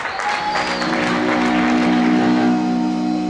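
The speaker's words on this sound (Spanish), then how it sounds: "Un fuerte aplauso." Audience at a festival under a bridge in Quilmes applauding, a dense burst of clapping and crowd noise that swells and holds for a few seconds, with musical tones ringing underneath.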